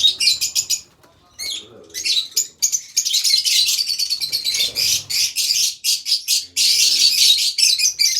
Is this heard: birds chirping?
yes